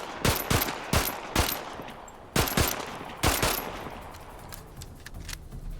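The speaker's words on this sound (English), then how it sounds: "Shooting them from a distance is the best way" Rapid bursts of gunfire in the survival game Ferocious as a raptor is shot from a distance, several sharp clustered shots with short gaps, loud and close.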